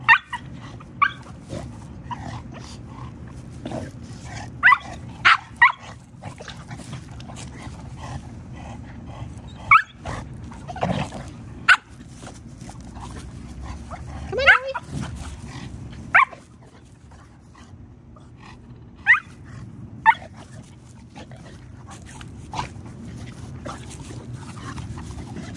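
Several Shar-Pei dogs playing together indoors, with scattered sharp barks, yips and growls over a steady low rumble of scuffling and panting, some barks loud and close.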